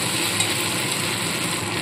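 Ginger and cumin paste with spices frying in a pan for a prawn and banana stem dish, a steady broadband sizzle with no talk.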